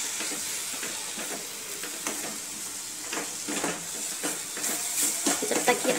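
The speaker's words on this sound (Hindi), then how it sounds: "अब हमने इसमें कंडेंस मिल्क डाल दिया है और इसको ऐसे चलाते रहना है" Coconut barfi mixture with condensed milk stirred in a pan over low heat, a steady sizzling hiss with soft scraping strokes at an irregular rhythm, close and moderately loud, growing a little busier toward the end.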